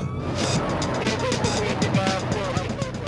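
A police car pursues at over 120 miles per hour, weaving through traffic. Its engine roars loud and close with rising and falling pitch while a voice speaks over it.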